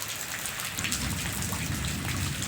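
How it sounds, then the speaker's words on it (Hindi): Steady rain pours down outdoors in a village, a dense continuous hiss with the patter of drops on surfaces, loud and unbroken with no voices. "लेकिन क्या करें बारिश आ गया।"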